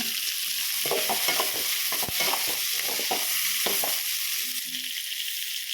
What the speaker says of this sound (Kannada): ಒಂದು 3 ಗುಂಟೂರು ಮೆಣಸಿನ್ಕಾಯಿ, 4 ಬಾಡಿಗೆ ಮೆಣಸಿನ್ಕಾಯಿ, ಒಂದು 4 ಹಸಿರು ಮೆಣಸಿನ್ಕಾಯಿ ಹಾಕಿ ಚೆನ್ನಾಗಿ ಬಾಡ್ಸೋಣ.